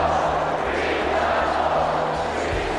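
A raucous Utah Jazz basketball crowd fills the Delta Center with a steady, dense roar and no breaks.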